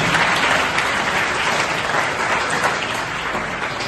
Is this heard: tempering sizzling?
no